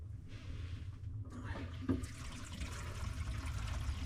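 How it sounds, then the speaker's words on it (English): Water gurgles and rushes as it drains from a kitchen sink during a Delta faucet installation, starting quietly and then running steadily, close by and moderately faint, with no talking. "let me drain this water"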